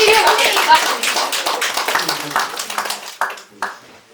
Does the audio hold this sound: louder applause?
yes